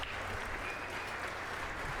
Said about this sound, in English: I don't think it deserved that amount of round of applause though, Kevin.